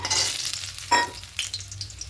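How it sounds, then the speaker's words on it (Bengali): Steady sizzling of lentil dumplings frying in hot oil, with a couple of louder crackles and stirring noises. "লাল লাল করে বড়িগুলো ভেজে নেব"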